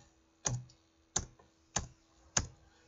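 Four sharp, evenly spaced clicks of an Enter key pressed on a computer keyboard, close and clear in a quiet room.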